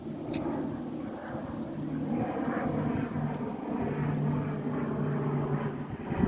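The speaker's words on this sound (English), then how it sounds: "That's a jet up there." A jet aircraft passes high overhead outdoors, a low, steady distant rumble with a faint droning hum that holds throughout without talk.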